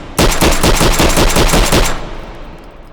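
A C96 Mauser pistol chambered in 7.63x25 Mauser fires in the video game H3VR. A rapid string of about ten loud, evenly spaced shots cracks out close by and cuts off abruptly, leaving a fading echo.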